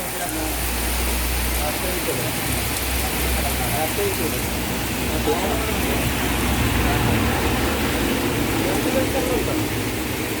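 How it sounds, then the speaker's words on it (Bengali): Rain falls steadily in Santiniketan, a dense, even hiss of drops on surfaces that stays loud and unbroken throughout. "তো দেখতে পারো, দেখো কেমন বৃষ্টি হচ্ছে"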